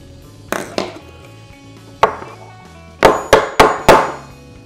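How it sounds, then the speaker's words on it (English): A hammer strikes a fishing reel's clicker at the beach, giving about seven sharp metallic clangs, first spaced out and then a quick run of four close, ringing hits. "I literally just hit it with a hammer"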